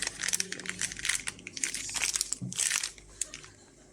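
A plastic bag crinkles and rustles up close, with irregular bursts of crackling that quiet down toward the end.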